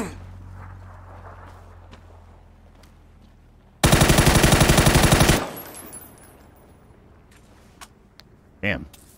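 Automatic rifle fire in the game Escape from Tarkov, a single loud, rapid burst of roughly one and a half seconds, close and sharp, with a voice speaking and footsteps around it.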